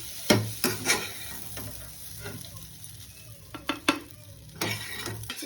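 A semolina and potato mixture is stirred in a pan on the stove, giving a soft continuous sizzle broken by several sharp scraping knocks of the spoon against the pan.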